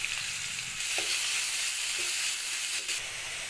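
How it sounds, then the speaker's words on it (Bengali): Onion and turmeric powder sizzle in hot oil with whole spices such as cardamom, cinnamon, cloves, peppercorns, cumin and bay leaf, a steady close frying hiss with a few faint stirring clicks. "এবার দিয়ে দিচ্ছি পেঁয়াজটা আর দিচ্ছি হলুদের গুঁড়ো অল্প"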